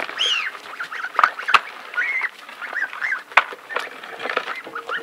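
A chicken and geese on a village farm honk and cluck in short repeated calls, close by and fairly loud, with a few sharp knocks among them.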